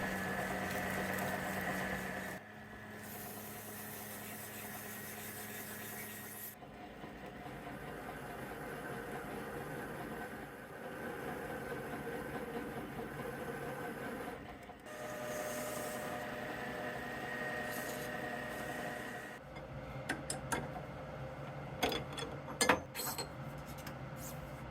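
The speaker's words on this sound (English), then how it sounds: "To finish off, I give the surfaces a clean up with some emery and add the chamfer to the end." A metal lathe turns a steel wheel spindle for a Moto Guzzi Le Mans 3 motorcycle, with a steady motor hum, a stretch of abrasive emery rubbing and brief sharper scraping as a chamfer is cut near the end.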